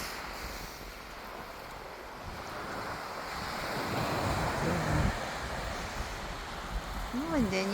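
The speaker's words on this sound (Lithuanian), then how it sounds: "Vandenynas palyginus ramus, tokios nedidelės bangelės" Small, gentle Atlantic Ocean waves wash along the Irish coast in a steady surf roar, with wind buffeting the microphone and a faint voice near the end.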